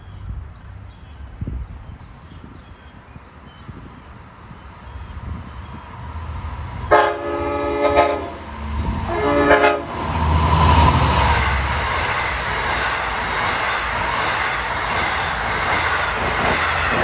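An LIRR westbound train at Merillon Avenue station sounds a long, loud horn blast as it approaches, then its cars roar past with a sustained rushing rumble and hiss.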